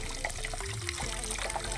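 Water trickles and splashes steadily from a tap, close by, with a faint voice murmuring underneath.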